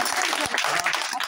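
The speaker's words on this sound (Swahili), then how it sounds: "Pigia Yesu makofi." A church congregation claps for Jesus in a loud, dense burst of applause throughout, with voices mixed in.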